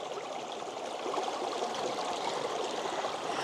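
Clean water in a stream along a trail flows in a steady, soft rushing babble, continuous and fairly quiet with no voices over it.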